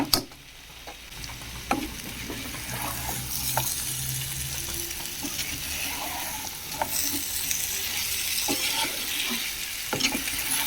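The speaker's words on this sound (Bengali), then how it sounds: "এখন এটা ভালো করে নেড়ে চেড়ে কষিয়ে নেব।" Boiled yam and potato pieces being stirred in a pan of cooked-down spice mix, a steady sizzle with scraping stir strokes and occasional clinks throughout.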